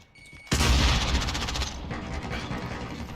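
A grenade explosion in the Call of Duty video game, one sudden loud boom followed by a crackle of rapid gunfire that trails off over a few seconds.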